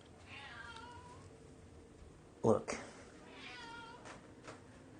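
A cat meows several times, drawn-out calls at a moderate distance, with a sharp knock in between and a person speaking softly underneath.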